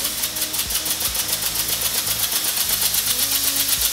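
Homemade compressed-air engine running at 40 PSI, giving a loud, steady mechanical chuffing with a fast, even pulsing rhythm throughout, heard close up with no talking.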